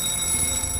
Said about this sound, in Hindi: अगर आपको इस तरह का आपातकालीन अलार्म